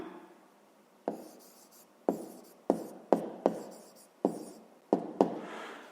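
A pen writes on paper in a quiet room, setting down a short series of distinct, crisp strokes and taps at uneven intervals, close and fairly loud against a near-silent background.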